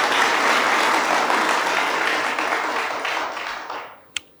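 Audience applause at a televised music competition finale breaks out loud and steady, a dense wash of many clapping hands that gradually thins and fades, ending with one sharp clap.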